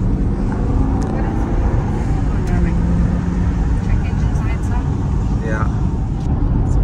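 A Chevy Caprice PPV police patrol car drives with a loud, steady engine and road roar heard from inside the cabin, while people inside talk over it.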